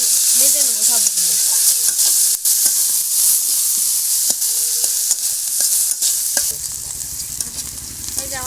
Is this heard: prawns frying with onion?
yes